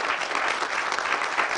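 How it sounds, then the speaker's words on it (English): Loud, steady applause from a crowd at a college of health sciences graduation ceremony, dense and continuous clapping throughout with no break. "can we have a loud applause?"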